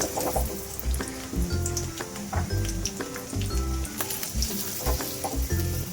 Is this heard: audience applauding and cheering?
no